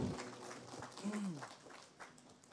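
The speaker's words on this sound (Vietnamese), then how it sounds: "cho một tràng pháo tay thật lớn để cảm niệm công đức của đại đức giảng sư" Monastery audience applauding a lecturing Buddhist monk, a faint, diffuse patter of clapping from a distance, with a brief voice-like tone partway through.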